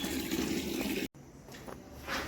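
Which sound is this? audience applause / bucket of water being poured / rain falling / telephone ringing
bucket of water being poured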